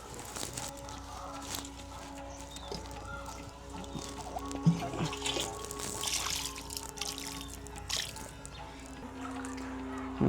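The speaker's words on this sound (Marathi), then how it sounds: "तर आपण पाय धुवून घेऊया।" Water splashing and trickling as feet are washed from a clay pot at a Shani temple foot-wash basin, irregular pours and drips with soft background voices.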